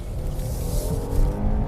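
A Kia Telluride SUV rolls over a massive bump, heard as steady low road and engine rumble with a soft thud, moderately loud, with no voices.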